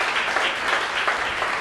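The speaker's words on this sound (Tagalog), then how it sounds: "Come on, the best na palakpak para kay Lord." A church congregation at a Sunday worship service breaks into loud, dense applause, many hands clapping together in a steady, close roar throughout.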